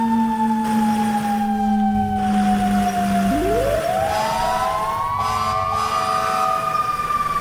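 A fire truck siren wails while the engine drives in the video game EmergeNYC, a loud continuous tone that sweeps down, then climbs back up over a steady engine rumble, with no talking.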